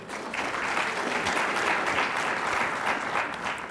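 An employee awards audience gives warm, continuous applause, a thick even wash of many hands clapping at steady volume with no pauses.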